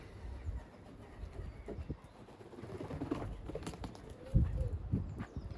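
Young racing pigeons at a training loft, with soft low coos and bird calls coming and going over steady outdoor ambience, a louder burst near the end.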